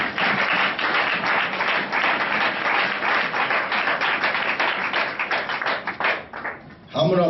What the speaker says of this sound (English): Can you clap your hand for Jesus?